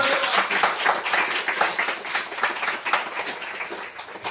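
A congregation claps loudly during fervent prayer and praise, a dense steady patter of many hands with no pause across the whole stretch.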